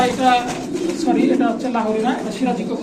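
Imported pigeons at a Bangladeshi pigeon market coo in soft rolling phrases, close and continuous, with someone talking over them.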